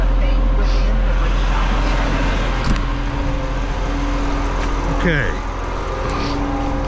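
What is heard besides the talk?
auto race played on YouTube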